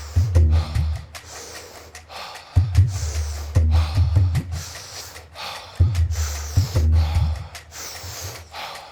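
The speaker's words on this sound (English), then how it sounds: "We're breathing a little bit faster than normal as to charge our body." Fast breathwork breathing, rhythmic forceful inhales and exhales repeating in quick cycles, close and loud, with no talking.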